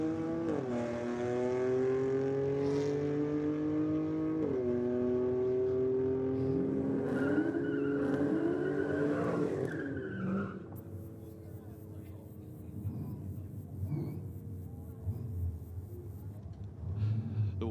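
A Toyota Cressida with a 1J engine drag races at a strip, its engine loud and close as it revs hard and climbs through several gears, then fades into a lower, steadier drone.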